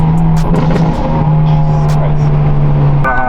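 Straight-piped Hyundai Elantra N pulls hard, its loud, raspy exhaust holding a steady drone close by before shifting to a higher pitch near the end; faint voices sit underneath.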